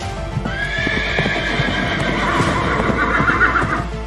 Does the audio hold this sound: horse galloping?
yes